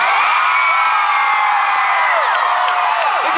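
A concert crowd in Indonesia cheers and whoops loudly, a dense, continuous roar of many voices with high shouts rising out of it.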